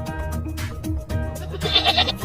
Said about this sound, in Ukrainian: кози